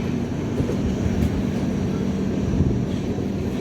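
The Golden Temple Mail, express train 12903 from Mumbai to Amritsar, pulls into Mathura Junction. A steady, loud, broadband rumble carries through without a break and with no voices.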